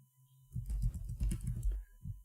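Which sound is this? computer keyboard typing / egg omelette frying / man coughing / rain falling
computer keyboard typing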